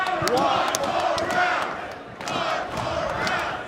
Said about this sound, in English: The crowd is screaming one more round.